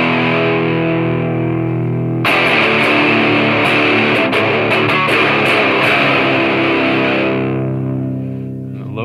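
Electric guitar played through a DOD Boneshaker distortion pedal with the distortion set high, a sustained heavily distorted chord that swells into loud, bright, fuzzy strumming, then rings out and fades, with no talking.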